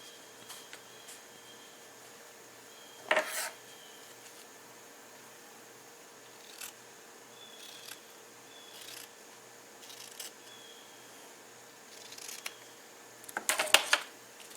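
Scissors cutting loosely around a piece of chipboard already sized to fit the back of a frame for a shadow box craft, heard as two short, crisp snipping bursts in an otherwise quiet room, with no talking.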